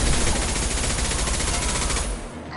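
An impact gun fires in a video game as a rapid, dense burst of loud repeated shots for about two seconds, then cuts off abruptly.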